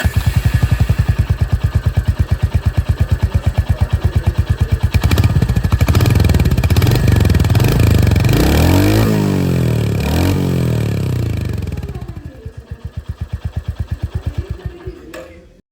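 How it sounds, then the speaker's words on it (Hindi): A motorcycle's exhaust idles with a steady, close, rapid pulsing, then is revved in several rising and falling bursts before settling back to a lumpy idle, with no talking. "यहाँ पर भी जो एग्जॉस्ट साउंड है वो मैं आपको सुना दूँ"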